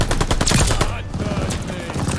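Rapid automatic gunfire in Call of Duty Vanguard, fired while the player jumps, forming a dense, loud, continuous rattle of shots with a brief dip midway before the burst resumes.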